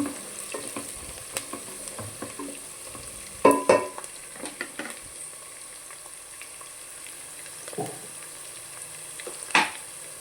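Onions frying in a pan with a spatula scraping and clinking against the metal at irregular intervals over a soft continuous sizzle.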